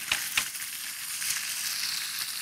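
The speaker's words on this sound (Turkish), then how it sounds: "Burada tavuklarımız yağda kızarıyor." Chicken pieces frying in hot oil in a home kitchen, a steady close sizzle with two sharp crackling pops near the start and no talking.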